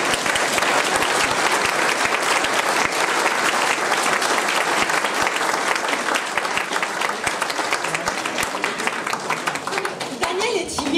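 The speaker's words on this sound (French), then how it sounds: "je vous demande d'applaudir Lily Roux et monsieur Daniel" Crowd applause at the opening of an animal-themed art exhibition in Caen, a dense, loud wash of many hands clapping steadily throughout, with voices mixed into the ovation.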